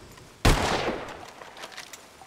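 One sharp, loud gunshot cracks out and trails off into a fading echo, with faint rustling afterward.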